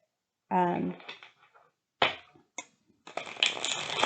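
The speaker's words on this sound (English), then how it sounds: "But I do like how they shuffle." Crisp riffling and snapping of tarot cards being shuffled in bursts, with short pauses between, close up and fairly loud.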